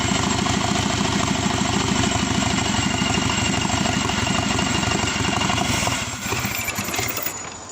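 Steady rhythmic idle of a Subaru Forester SG9 EJ255 turbo engine on a test setup, loud and close, after twenty minutes of running, then faltering and fading near the end as it runs out of fuel.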